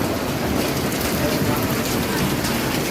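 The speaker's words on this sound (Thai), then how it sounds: "ฝนลมหน่อยเดียว" Rain falls with wind as a dense, steady hiss, loud and continuous throughout with no break.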